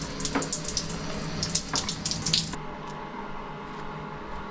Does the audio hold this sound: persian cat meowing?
no